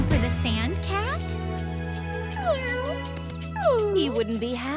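A cartoon sand cat meows in a series of rising and falling tonal cries over a steady background of music, several calls spread across the stretch and fairly close.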